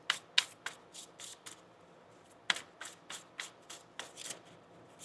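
A tarot card deck shuffled by hand in a quiet room, with a rapid series of crisp riffling bursts and a few sharper snaps, close and alone.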